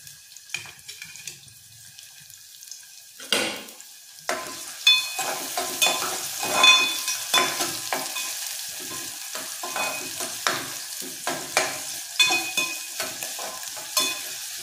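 Onion and curry leaves hit hot oil with a brief burst, then sizzle and crackle as they are stirred in a pan, repeated scraping strokes rising and falling over a steady fry.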